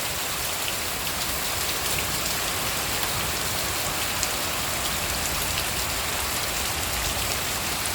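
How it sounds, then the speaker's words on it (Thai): Heavy rain pours steadily and splashes into a house, a dense, continuous hiss of drops pattering on surfaces close by, with no voices. "ฝนมันสาดเข้ามาในบ้านเลยนะคะนี่"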